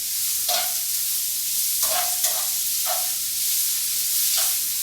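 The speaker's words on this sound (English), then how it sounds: "Let's give it a quick stir" Thin zucchini noodles hiss loudly in a hot pan while a utensil stirs them, with four or five short scraping sweeps breaking through the constant close sizzle.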